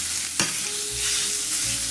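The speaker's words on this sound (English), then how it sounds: "We're going to keep stirring this in the pan and chop as we go." Sausage sizzles steadily while frying in a pot on medium-high heat, with a utensil scraping and tapping against the pot as the meat is stirred and chopped, close and continuous.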